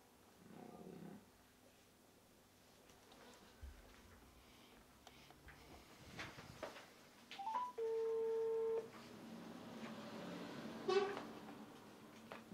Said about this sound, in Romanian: Eu sunam pe domnul Pacău.